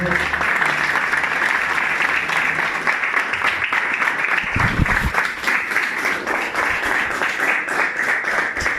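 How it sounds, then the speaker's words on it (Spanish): Church congregation giving the Lord a round of applause during a Sunday service, a loud, sustained roar of many clapping hands, even and full, with a brief low thump midway and faint voices beneath. "Dale un aplauso al Señor."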